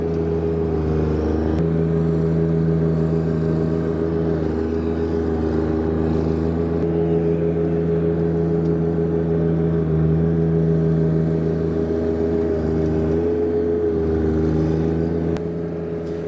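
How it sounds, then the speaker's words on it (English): A compact tractor with a front blade pushing snow, its engine holding a steady, close droning hum with slight shifts in load throughout. "As long as I'm pushing straight, I can push a lot of snow."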